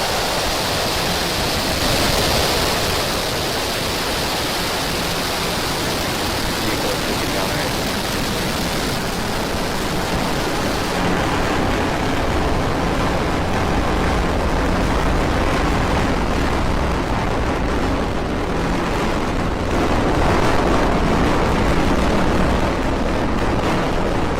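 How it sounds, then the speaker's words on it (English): Falcon 9 rocket carrying Starlink satellites lifting off, a sustained loud broadband roar that holds steady throughout, dense and rumbling like a continuous crackling blast. "Ignition. Liftoff of Falcon 9 and Starlink 8."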